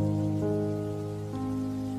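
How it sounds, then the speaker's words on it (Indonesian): Heavy rain falls in a dense, constant patter that fills the background, while sustained musical tones ring over it throughout. "diiringi derasnya hujan yang seketika berjatuhan"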